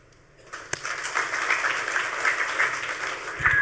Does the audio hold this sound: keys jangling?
no